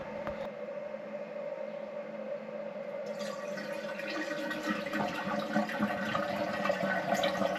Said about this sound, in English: So we have water filling up.